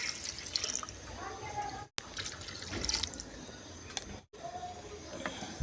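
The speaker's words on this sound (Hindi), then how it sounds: "तो अब इसमें बिरयानी का पानी शामिल करेंगे।" Water is poured into a pot of chicken for pulao, a soft, splashing trickle that runs in two short pauses, moderately quiet and close.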